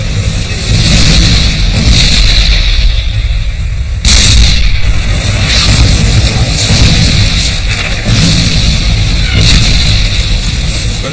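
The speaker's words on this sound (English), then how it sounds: "The South Vietnamese open fire with deadly accuracy. 11 enemy tanks are hit." South Vietnamese tanks open fire in a battle, heard as a loud, dense wall of rumbling booms and gunfire with a sharp blast partway through, continuing without let-up.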